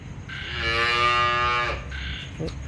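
Cattle mooing, a single long, loud, tonal low close by, rising and holding for about a second before fading into background noise.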